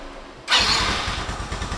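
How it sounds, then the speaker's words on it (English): A car engine cranks and catches after a moment of quiet, then settles into a steady idle close by with no talking. "Then, now we can start the car engine."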